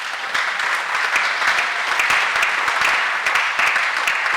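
A church congregation applauds in praise to acclaim the Lord after a Bible study, with loud, dense clapping that carries steadily for several seconds with sharp individual claps standing out.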